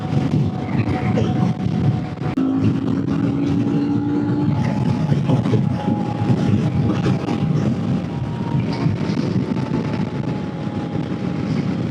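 A Moto Morini motorcycle, an Ibex-style model, held in fifth gear around 6,000 rpm at motorway speed: a steady engine drone with a faint whine under heavy, continuous wind rush.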